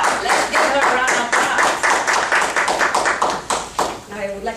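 A small meeting-room audience at a Toastmasters session gives a round of applause for an evaluator, brisk close clapping that fades near the end.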